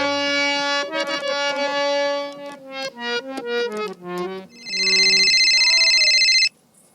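An electronic phone ringtone plays a melodic tune of rising and falling notes, followed by a steady, loud buzzing tone before cutting off.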